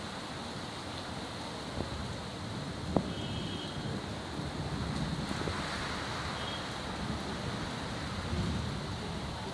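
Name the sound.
heavy rain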